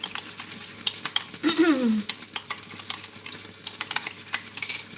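Hoisin sauce and sriracha are stirred together with a utensil, giving a string of light clinks and scrapes against a dish, close and fairly quiet.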